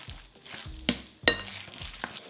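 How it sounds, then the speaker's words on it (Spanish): Cabbage salsa with cilantro, garlic and seeded tomato being stirred and mixed in a bowl, giving a few soft scraping and clattering strokes close by, with one sharper knock midway and no voices. "Seguimos mezclando."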